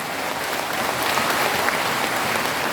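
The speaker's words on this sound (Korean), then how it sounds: "박수 한번 주세요." Applause from an audience at a Korean political gathering, continuous and evenly loud clapping filling the whole moment without a break.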